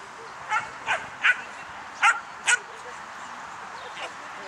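A dog barks and yips several times in short bursts, spaced irregularly, over a quiet background with a faint distant voice.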